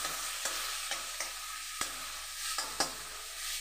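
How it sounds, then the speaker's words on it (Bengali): Prawns frying in a pan give a soft, continuous sizzle and hiss, broken by regular light clicks and scrapes of stirring every half second or so; fairly quiet, no talking. "তো চলুন চিংড়ি মাছগুলোকে ভাজা যাক।"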